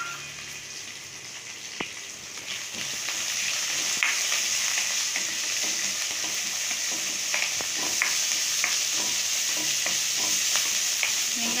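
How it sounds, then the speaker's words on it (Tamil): Onions frying with curry leaves in hot oil for aval upma: a continuous close sizzle with occasional crackles and a light stir, growing slightly louder after a few seconds. "வெங்காயம் வணங்கட்டும்"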